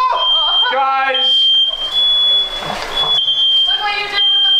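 A fire alarm goes off in an apartment, a loud, piercing, steady electronic tone that sounds continuously while people shout and talk over it.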